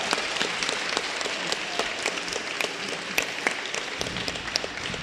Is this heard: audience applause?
yes